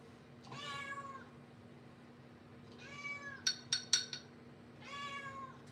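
A house cat meows three separate times at steady intervals, each call clear and fairly close, with a brief run of light clinks and taps between the second and third meows.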